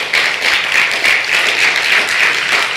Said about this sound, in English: Clap your goddamn hands if you're ready for revolution.